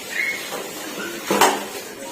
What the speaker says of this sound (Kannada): ನನ್ನ ತಂಗಿ ಪಾತ್ರೆ ಉಸ್ತಾ ಅವಳೆ.